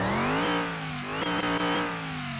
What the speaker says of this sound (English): That's a nice rumble.